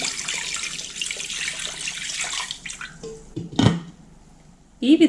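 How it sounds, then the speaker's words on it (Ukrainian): Cold water runs and splashes into a soup pot holding meat, parsley and celery root for several seconds, a steady broadband rush, followed by a few clinks and a brief louder splash near the end. "Заливаю холодною водою."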